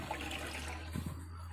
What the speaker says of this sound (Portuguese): Então aqui eu venho, encho água. Enche isso aqui de água.